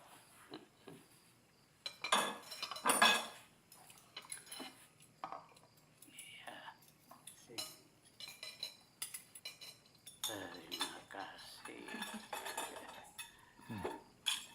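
Spoons, plates and glasses clink and scrape at a family dinner table in an Indonesian home, in scattered irregular bursts with one busier flurry, and a voice briefly murmurs a word.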